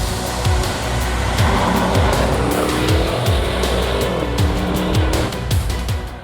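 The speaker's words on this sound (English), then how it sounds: "once I've got that activated, as you can hear, the car gets louder" A Maserati Levante Trofeo SUV's 3.8-litre twin-turbo V8, in sport mode, rumbles and surges through repeated gear changes, the exhaust growing louder with rhythmic upshift pops, close and continuous.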